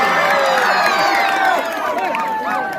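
A crowd at a high school centenary function claps harder, producing a dense, sustained burst of applause with whoops and chattering voices layered over it, loud and continuous from start to finish.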